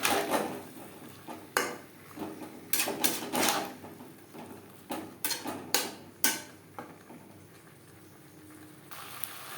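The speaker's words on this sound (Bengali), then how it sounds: "মশলার সাথে আলু ও এঁচোড় কষানোর সুবিধার জন্য দিয়ে দেবো সামান্য পরিমাণে জল।" Potatoes and jackfruit stir-fried with spices in a pan, with a series of sharp metallic spatula scrapes and clanks against the pan, each one loud and close, separated by short quiet gaps and set over a faint steady background hiss.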